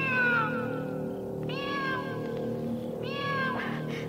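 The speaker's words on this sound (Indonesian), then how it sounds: "Suara kucing itu terdengar secara tiba-tiba" A cat meows several times, with two clear drawn-out meows standing out over a low steady hum in the background.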